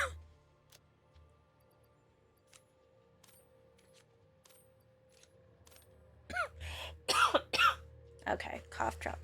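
A person coughs and clears their throat several times, close and fairly loud, after a long quiet stretch with only faint ticks and a low hum.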